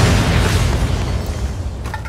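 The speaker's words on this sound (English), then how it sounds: "I don't take much damage from these grenades" A thrown grenade explodes in the game Fallout: New Vegas, one loud deep boom that rumbles and slowly fades over two seconds.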